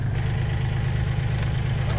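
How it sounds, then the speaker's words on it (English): A small engine on a firewood log lift in a firewood production yard runs with a low, steady rumble, close and loud, holding an even chugging tone throughout. "So now I got to get this engine started."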